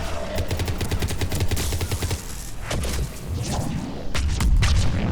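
Rapid gunfire and biotic power explosions during a gold-difficulty Mass Effect 3 multiplayer match played as an Asari Adept, with dense bursts of shots and booming blasts running throughout.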